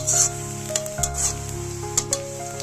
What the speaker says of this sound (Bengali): পেঁয়াজটা লাল লাল করে ভাজা হয়ে গেছে আমি এবার পেঁয়াজের ভিতরে কটা গোটা জিরে দিয়ে দেবো